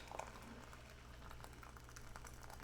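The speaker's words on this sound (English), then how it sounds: "This is boiling water. We're going to pour this in here, and there should be 2 cups." Boiling water is poured into a pot for Jamaican yellow yam stew, giving a steady, bubbling liquid rush over a low hum that lasts a few seconds without talking.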